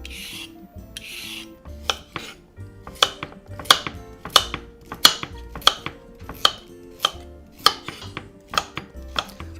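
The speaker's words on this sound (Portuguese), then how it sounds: "Você pode fazer o bolo usando a casca, mas eu prefiro sem, então eu vou usar um descascadorzinho aqui." Carrots for a carrot cake are scraped with a small handheld vegetable peeler, a close series of about a dozen crisp rasping strokes in a steady, quickening rhythm, with no talking.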